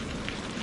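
Rain pouring down in a storm, a dense, steady hiss of drops hitting a surface, heard close and continuous without any voices.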